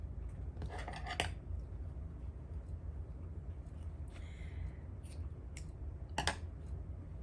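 Scissors snip through a crochet yarn tail, a few sharp close clicks standing out over a steady low background hum.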